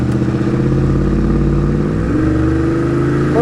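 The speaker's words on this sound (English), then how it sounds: "A little heavier acceleration one more time." A 1997 Pontiac Firehawk with a 5.7-litre V8 and automatic transmission accelerates hard on a test drive: a loud, steady engine roar that climbs in pitch, dips at a gear change, then rises again, heard close from inside the car.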